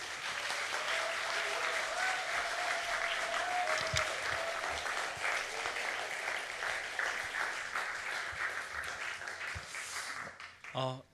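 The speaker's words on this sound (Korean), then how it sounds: "큰 소리로 박수로 환영했으면 좋겠습니다" A church congregation applauding during a Sunday worship service, steady dense clapping filling the room for most of the stretch before fading out near the end.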